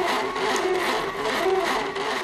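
A 3D printer, priced around 800 euros, runs steadily at mid volume, a continuous whirring hum with faint shifting tones from its moving parts and no pauses.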